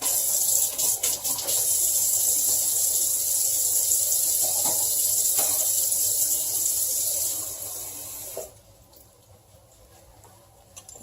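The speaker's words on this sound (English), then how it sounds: "I'm going to add in just a little touch of water." A small splash of water poured into a pan of hot prepared rice gives a close, steady hissing sizzle with faint clinks, dropping abruptly to a quiet near the end.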